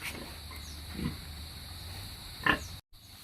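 A breeding sow grunts in a concrete pig pen, with a few low, close grunts over steady farm background noise, one louder grunt near the end.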